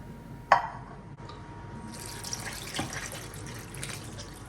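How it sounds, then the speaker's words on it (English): Water is poured into a pot of washed, chunked okra, with a short clatter at the start and then a steady faint splashing stream, close by and without talk. "add a little bit of water"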